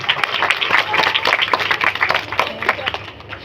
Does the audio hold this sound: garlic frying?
no